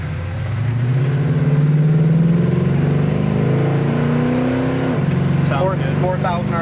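A 1969 Pontiac Firebird's engine pulls hard under acceleration, its rising drone swelling and then dropping as it shifts at 4,000 RPM. The revving builds again afterwards, loud and close, with a voice briefly audible underneath.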